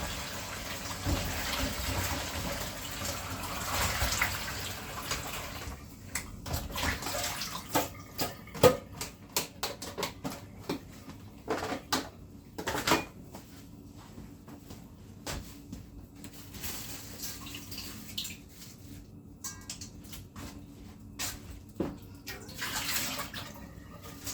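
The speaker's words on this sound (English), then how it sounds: "Go ahead and get my coconut washed." A coconut is washed under running tap water in a kitchen, with a continuous splashing gush broken by irregular louder splashes and knocks as it is turned in the stream.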